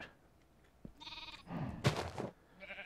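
A sheep bleats in the Minecraft video game while riding in a minecart on a wool farm, with short nasal bleats close by set against light game background noise.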